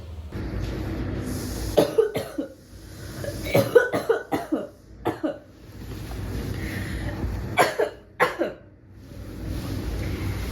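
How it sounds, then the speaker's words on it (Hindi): A woman coughs in repeated harsh bursts, a cluster near the start, another in the middle and a final pair near the end, with lingering persistent coughing from a long illness with fever and night sweats, close and fairly loud. "इतनी खांसी, सो भी नहीं पा रही हूँ ढंग से।"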